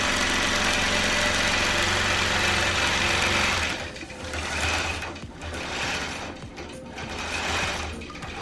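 An embroidery machine stitching a design for a quilt runs with a steady, dense mechanical whir that shifts into a lower, pulsing chatter partway through, heard close with no talking.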